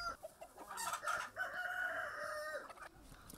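Chickens on an organic farm in the Gambia, a rooster crowing prominently over scattered clucks, fairly faint and slightly distant with no talking.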